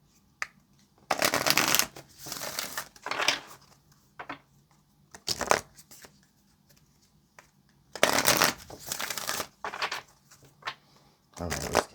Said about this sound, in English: let's get this last shuffle here.